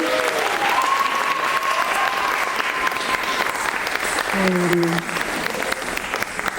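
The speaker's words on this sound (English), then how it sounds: "If we could get another round of applause for them." A performance showcase audience claps after a stage act, a full, loud round of applause filling the room, with a few brief tonal sounds and faint voices mixed into the steady clapping.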